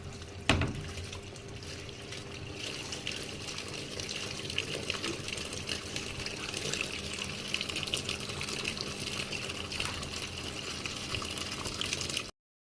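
Running water pours steadily from a tap while curtains are washed at home, a continuous rushing gush that lasts almost the whole time, starting with a brief knock and ending abruptly.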